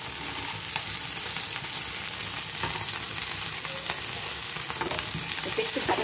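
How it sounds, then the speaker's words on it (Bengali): Potatoes and peanuts fry in oil in a pan, a continuous close sizzle with light stirring clicks and scrapes throughout, no talking. "আর এই বাদামটাও একটু ভেজে নেব।"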